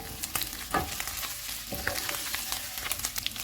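Fried chicken with coriander is stirred in a pan, a soft steady sizzle under scattered scraping taps of the spoon, close and fairly quiet.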